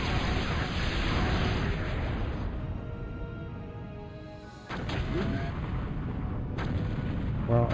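Gunfire and artillery from the video game Total Annihilation, forming a dense, continuous rumble of booms and bursts, with a brief lull midway before the barrage resumes loudly.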